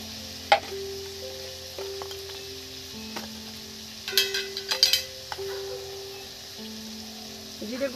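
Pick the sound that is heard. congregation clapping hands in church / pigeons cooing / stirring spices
stirring spices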